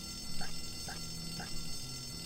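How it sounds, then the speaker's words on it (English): A fire alarm rings in the video game Bully, heard as faint, evenly spaced electronic beeps about twice a second over a low background hum. "someone pulled the fire alarm"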